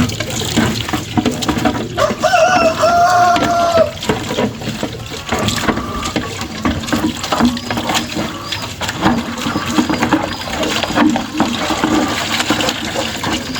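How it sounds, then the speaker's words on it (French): Water splashing and running while chicken drinkers are rinsed out by hand, an irregular sloshing with a brief faucet-like gush early on and a voice talking faintly underneath. "C'est avec ça qu'il faut rincer effectivement les abreuvoirs."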